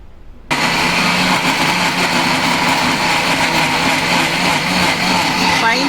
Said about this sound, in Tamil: பைனாப்பிளை ஜூஸ் பண்ணிக்கிட்டு இருக்கிறாங்க.